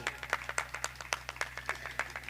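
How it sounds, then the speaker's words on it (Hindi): Small audience at a Hindu scripture recitation (Shrimad Devi Bhagwat Katha) claps in loose, uneven rhythm, each clap sharp and fairly close, sustained over the short stretch with no talking. "तालियों से स्वागत कीजिए"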